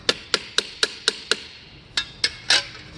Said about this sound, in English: Or just hammer that right back out.